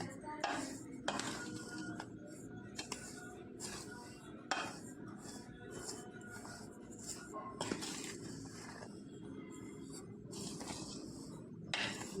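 Close, steady scraping and clinking of a spoon against a metal vessel while freshly ground, slightly coarse rasam spice powder is mixed, with repeated sharp clatters through the stir.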